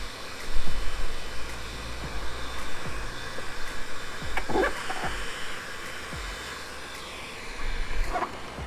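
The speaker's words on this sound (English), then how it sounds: "don't leave that heat gun blasting at the paintwork because you don't want to damage the paint" A heat gun blows hot air against car paintwork to soften foam, a steady whooshing rush of airflow with a faint motor whine, moderately loud and close, punctuated by a few light handling clicks.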